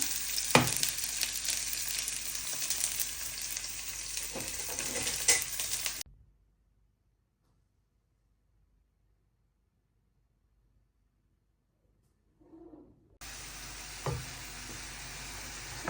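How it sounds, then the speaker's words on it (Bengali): Ginger, garlic, onion and bay leaf fry together in a pan with a loud continuous sizzle and a few stirring knocks, then a long silent gap, and then the frying sound returns. "আর এখানে আছে পেঁয়াজ রসুন আদা তেজপাতা যে আদা রসুন পেঁয়াজ একসঙ্গে দিয়ে দিলাম"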